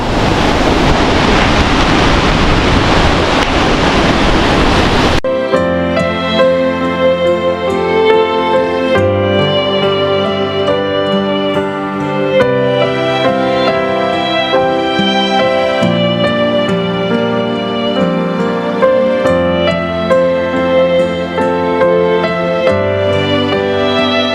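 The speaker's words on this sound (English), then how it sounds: "So this is the Jogini waterfall." Roaring water from Jogini waterfall near Manali: a loud, steady broadband rush heard up close for about five seconds, then cut off abruptly as music takes over.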